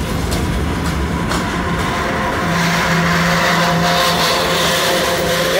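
A freight train of empty cars rolls through a Norfolk Southern yard in Binghamton, a loud, steady rumble with rail clatter and a long squeal, close by.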